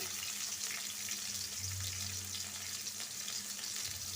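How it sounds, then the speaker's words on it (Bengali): Chopped onion frying in hot oil in a wok, giving a steady, close broadband sizzle that runs continuously without a break, with a low hum underneath and no voices. "কড়াইটা গরম হয়েছে তেল দিয়ে দিচ্ছি দিব পেঁয়াজ কুচি"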